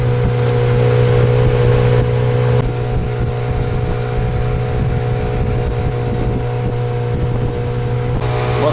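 A Mikatsu 9.8 outboard motor pushes a boat along a river at medium revs, a loud, steady, even drone close to the microphone, with wind buffeting and no talking.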